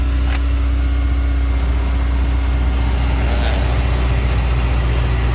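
A Suzuki car engine idles close by, a loud, steady low rumble that holds evenly throughout with no speech.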